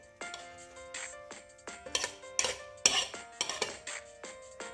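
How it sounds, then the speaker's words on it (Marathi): Grated boiled potato being mixed in a metal bowl, a series of close clinks and scrapes from a utensil against the bowl at an irregular, busy rhythm. "आता मी ते एक भांडं घेतलेले आहे, त्याच्यामध्ये हा बटाट्याचा किस मिसळून घ्यायचे।"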